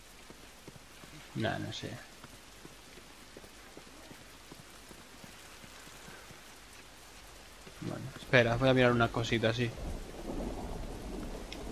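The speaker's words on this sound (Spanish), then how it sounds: "Joder, cómo llueve, tío." Heavy rain pours steadily in The Last of Us video game, a dense hiss of drops on surfaces with thunder rumbling underneath, while two people speak Spanish over it at moments.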